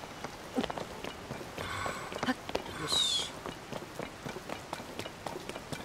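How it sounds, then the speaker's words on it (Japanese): Rain falling in The Legend of Zelda: Tears of the Kingdom, a steady soft patter under quick footsteps, with someone talking over it and a brief brighter chime partway through. "ちょっと今雨降っちゃってるからね"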